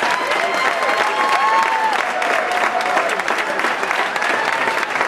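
A boxing crowd applauds as two fighters are introduced in the ring, with steady, dense clapping and some cheering filling the arena throughout, and a voice faintly audible beneath it.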